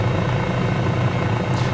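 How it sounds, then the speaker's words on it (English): A Cowan Simulation 500E helicopter flies in Microsoft Flight Simulator, its steady rotor and engine drone loud and continuous with no talk over it. "This helicopter really is just so nippy"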